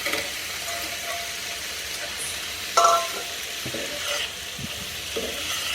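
Chicken pieces and cashew nuts hit a hot pan for a restaurant-style cashew nut salad, giving a steady, close frying sizzle with a brief louder clatter partway through and no talking.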